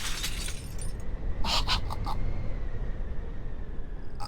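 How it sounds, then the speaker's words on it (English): Glass shatters in a video game, a short cluster of bright breaking crashes that rings out briefly over a steady low rumble of ambience, with no talking. "The sound of breaking glass wrenches me awake."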